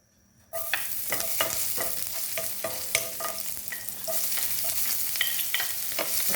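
Fish being sautéed in a hot pan, a steady loud sizzle of oil with repeated sharp clinks and scrapes of a utensil stirring, continuing without talk.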